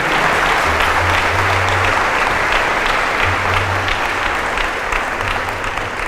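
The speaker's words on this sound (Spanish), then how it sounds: "Dele el aplauso al Señor, no sea tímido" A Catholic congregation applauds loudly and continuously for several seconds, with a low, sustained musical drone beneath the clapping.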